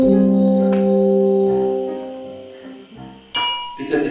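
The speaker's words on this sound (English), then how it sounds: "Because the glasses vibrate as soon as they are struck and set in motion the sound waves of the air" Musical glasses ring out after being struck, a clear, sustained tone that slowly fades, followed by brighter, sharper strikes near the end.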